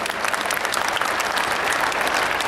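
An audience at a large Hindu religious gathering with a Ram Katha and 1008-kund yajna claps loudly to welcome saints, dense continuous applause from a big crowd throughout.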